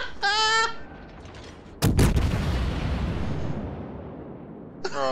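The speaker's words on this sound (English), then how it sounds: "Did he just open fire on me?" A single loud, sharp gunshot cracks in a video game, followed by a long rumbling decay that slowly fades. Brief tonal electronic tones sound at the very start and end.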